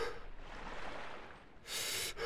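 A soldier character in the Arma video game pants hard and out of breath, with rapid ragged breaths running continuously at close range and a sharper, louder gasp near the end.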